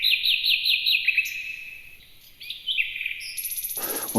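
A human voice imitates nightingale song in a traditional musical style, producing rapid, high, whistling trills and sustained piping notes that step between pitches, close and clear, ending in a burst of breathy noise.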